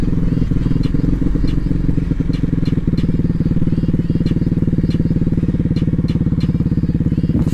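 Several motorcycles run in a continuous, loud engine drone with a steady low-pitched rumble, and sharp clatters and ticks show through at intervals.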